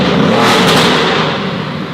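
An AMG GT replica fitted with turbos and a new, not yet fully warm exhaust revs hard up close, a loud, raspy roar with turbo whoosh that fades slightly as the rev drops.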